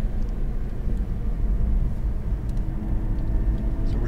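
A Nissan GT-R supercar rolls into the pits at a track, its engine a steady low rumble heard from inside the car, continuous and fairly loud without speech.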